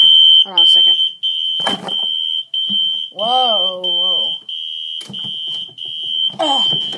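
A fire alarm buzzer blares a loud, steady high-pitched tone almost nonstop during a system test, broken by a few brief gaps, while a person speaks and exclaims over it.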